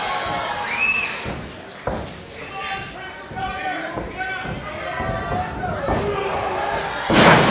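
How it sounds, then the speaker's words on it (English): A wrestler is slammed down onto the ring mat during a live 901 Wrestling match, giving a sharp thud under excited commentary and a murmuring crowd, followed by another heavy impact and a crowd swell at the end. "He slams him down,"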